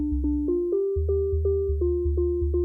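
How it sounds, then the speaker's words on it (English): A plain sine wave synth tone with no squeeze applied, played as a run of short, evenly spaced pitched notes over a steady low bass pulse, clean and moderately loud, with no voices. "it's just a normal sine wave, which sounds like this."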